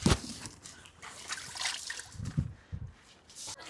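Water trickles and splashes faintly as a vehicle is wetted before washing, with soft irregular sloshing bursts close by and no talk.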